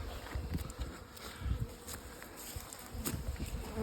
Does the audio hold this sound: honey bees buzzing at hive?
yes